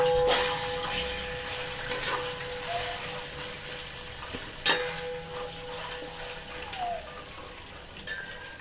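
Flattened rice (atukulu) fries in a pan for a Telangana-style seasoned snack, giving a continuous soft sizzle and crackle with a few louder clinks of stirring against the pan.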